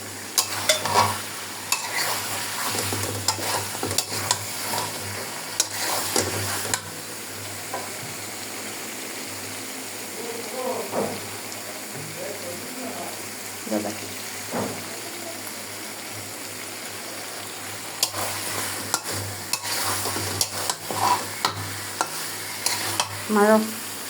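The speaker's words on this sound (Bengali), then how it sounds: "প্রথম পর লেড়ে দিবেন, না হলে লেগে যাওয়ার সম্ভাবনা থাকিবে।" Chicken curry stirred in a pan with a steady low sizzle, the spoon scraping in bursts of busier strokes near the start and end, quieter simmering between, no talk.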